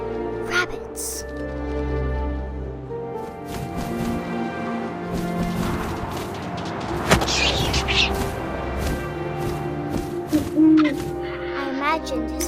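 An owl hoots in the video game What Remains of Edith Finch, set against a dense layer of game music and ambience, with a few sharper accents along the way.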